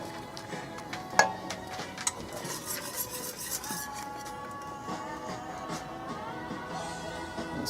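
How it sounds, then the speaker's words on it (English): Razor clam chowder is stirred in a pot, with a soft, continuous scraping and swirling broken by a few sharp clinks of the utensil against the metal rim. "Stir it around a bit."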